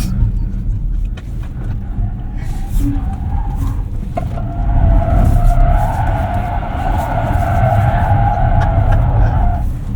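A 2024 Ford Mustang Mach-E Rally electric car skids with a loud, sustained rush of tire and road noise that swells midway, close and continuous with no engine roar.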